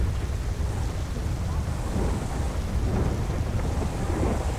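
Steady heavy rain with low rumbling thunder in the GTA video game while driving, a dense continuous wash with no distinct breaks.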